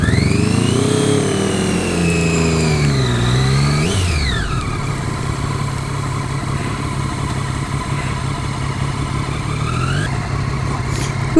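A 2013 Triumph Daytona 675R motorcycle engine revs up sharply with rising pitch, peaks and drops, then settles into a loud, rough idle that blips briefly near the end, close and with no voices.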